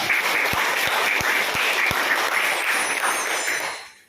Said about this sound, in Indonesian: Tepuk tangan buat kelas 7A.